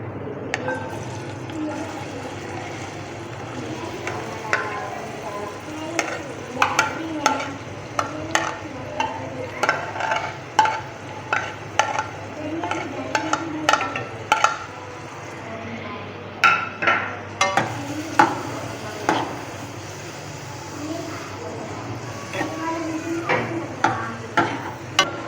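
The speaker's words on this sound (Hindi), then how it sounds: "मैंने घी लिया है, तेल में नहीं पका रहा हूँ, खकीना मैं बना रहा हूँ घी में" Egg khakina cooking in ghee in a pan, a soft sizzle broken by many irregular scraping and tapping stirs of a spatula, close and fairly loud, with no voices.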